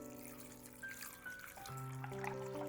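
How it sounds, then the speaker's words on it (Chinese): Clean water poured from a tap into a bowl of washed raw peanuts, a steady close trickle and splash whose pitch rises as the bowl fills over a faint background tone. "再倒入适量的清水"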